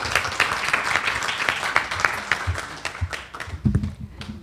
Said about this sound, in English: Please give Cindy Spray a round of applause as she comes.